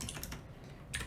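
Fast, steady typing on a computer keyboard while coding in Python, close and clear, with a denser burst of clicks near the end and no voices.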